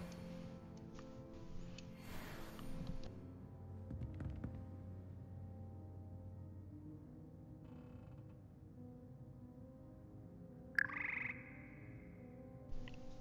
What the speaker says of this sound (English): Yep, it's a frog choir.